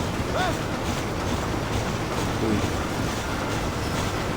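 A train runs steadily through the whole stretch in the Red Dead Redemption video game, a continuous loud rumble of wheels and carriages with faint voices mixed in.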